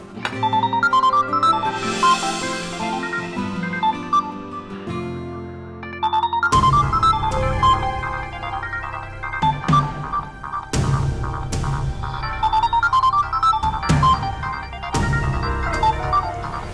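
An electronic ringtone plays a bright, repeating melody, cycling through several loud rings in a row with brief breaks between them.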